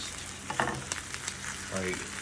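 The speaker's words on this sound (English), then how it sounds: "this is going to be a really delicious fried egg" An egg fries in a small pan with a steady, close sizzle of hot fat, broken by a few light taps and clinks from a utensil over a couple of seconds.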